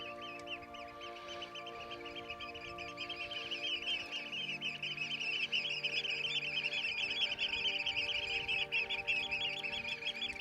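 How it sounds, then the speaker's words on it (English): Dense, continuous birdsong from many birds chirping and trilling at once on the Isle of Skye, growing louder and busier partway through, with no talking. "I'm going to stop walking so you can hear them birds."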